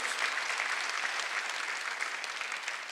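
A church congregation applauds during a Sunday worship service, a steady wash of dense clapping that holds at an even level for the whole stretch with no voices standing out.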